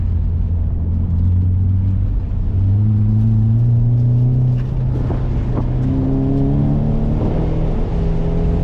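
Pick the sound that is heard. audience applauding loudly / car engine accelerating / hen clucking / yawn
car engine accelerating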